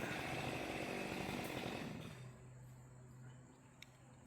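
A chainsaw cuts into a standing tree during felling, a continuous loud buzzing engine drone that holds steady, then drops to a lower, quieter pitch partway through before a couple of faint clicks at the end.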